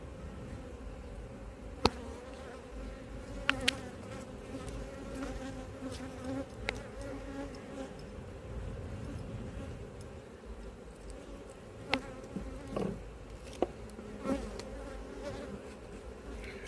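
Honeybees buzz around an open hive at an apiary, a steady soft insect drone with a few louder individual bees passing close, plus occasional light ticks and knocks from the hive.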